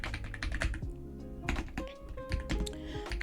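Quick, close keystrokes on a computer keyboard while typing a Google search, coming in uneven clusters of taps and clacks with short pauses between words.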